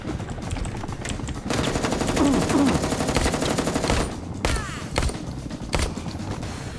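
Automatic gunfire in Mafia: Definitive Edition rattles in a rapid sustained burst, followed by several separate loud shots over game ambience.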